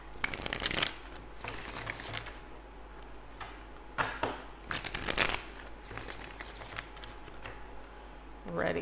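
Tarot cards are shuffled by hand in several crisp riffling bursts with quieter rustling between them, close and fairly faint.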